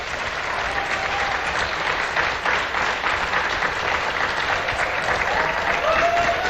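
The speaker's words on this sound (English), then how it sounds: "Please give Aisha a big round of applause." An audience at the Africa Forward Summit 2026 applauds a moderator, the CEO of Orange Sierra Leone, with a sustained even round of clapping from a large crowd, faint murmurs and voices beneath it.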